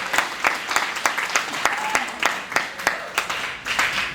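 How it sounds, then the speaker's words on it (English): Applause for Princess D at a Network of Champions gathering, a modest audience clapping in a loose, uneven patter of distinct claps throughout. "Let's give her a big round of applause."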